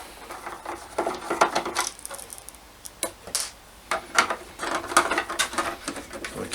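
Small screws being worked out of the front of a Thrustmaster T300RS racing wheel, giving light, irregular ticking and tapping clicks in quick clusters, close by, with no one talking.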